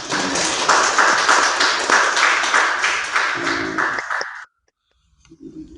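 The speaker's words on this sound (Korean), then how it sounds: "우리 축하의 박수 한번 드리겠습니다" A congregation at a Korean Sunday church service claps together in a dense, steady burst of applause for about four seconds, which then stops abruptly into near silence.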